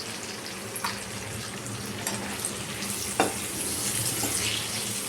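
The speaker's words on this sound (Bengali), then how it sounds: "এটাকে আমি একটু কষতে দেব" Potatoes and cauliflower sautéing in a pan for aloo gobi, a soft steady sizzle with occasional stirring scrapes and clicks, close and fairly quiet, no one speaking.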